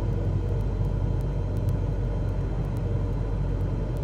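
An aircraft in Microsoft Flight Simulator 2020 on approach with full flaps, its engine reduced to a steady low rumbling drone, constant and unbroken throughout.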